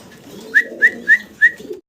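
Fancy pigeons at a seller's coo softly and low, punctuated by four short bright calls at an even pace, close by.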